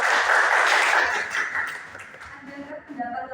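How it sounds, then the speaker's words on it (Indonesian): A secondary-school class applauds a classmate during a lesson, a dense, close wash of clapping that stays strong for about two seconds, then trails off into scattered claps and soft room sounds. "beri tepuk tangan kepada Mbak Ika"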